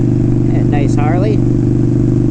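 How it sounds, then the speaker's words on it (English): Harley motorcycle engine rumbling loud and close in a steady deep throb while someone speaks over it. "Harley."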